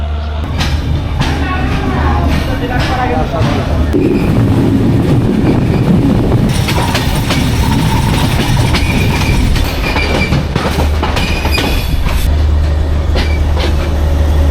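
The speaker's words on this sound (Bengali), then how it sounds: "তো এখান থেকে ট্রেন চলে যাবে হচ্ছে আমাদের পরবর্তী স্টেশন নাটোরের দিকে" Ekota Express passenger train pulling out of a station, a loud, continuous rumble of wheels on rails with clickety-clack beats and occasional squeal, heard up close throughout.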